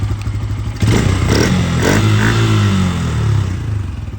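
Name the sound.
N160 motorcycle engine running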